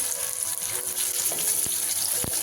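Onion fries in a pan with a bright, steady sizzle and a few soft clinks from stirring, close and alone with no one talking.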